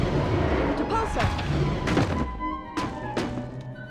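Depulso spell cast in the Harry Potter Order of the Phoenix video game, a series of heavy thumping bursts and booms over game music, with a voice speaking in between.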